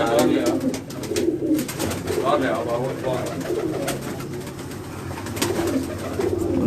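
Pigeons coo repeatedly nearby on a rooftop, soft rolling calls overlapping, with people talking in the background throughout.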